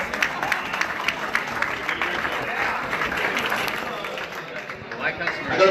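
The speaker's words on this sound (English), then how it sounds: "A round of applause for our golf committee." Audience at a golf tournament awards luncheon applauding the golf committee, with sustained clapping from a crowd and some talk and cheering mixed in.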